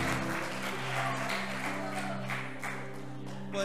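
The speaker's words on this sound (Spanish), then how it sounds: "Denle un aplauso, denle un aplauso, Señor." A church congregation claps together in a continuous wash of applause, with sustained musical tones and a faint voice underneath.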